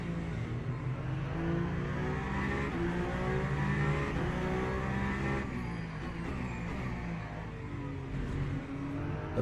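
A race car in a Le Mans racing video game accelerates with a rising engine drone that climbs through several gear steps, steady and moderately loud throughout.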